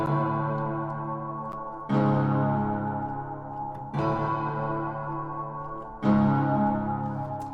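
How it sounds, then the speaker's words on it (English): A dark, ominous synth note strikes every two seconds and slowly fades, deep and droning, repeating in a steady pattern with no voices, in a beat. "I'm going to start off with an ominous sort of sound."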